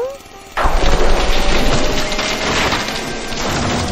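A sudden loud crash breaks in, followed by a sustained crackling, rumbling roar like a huge tree splintering and falling, fading slowly with debris noise.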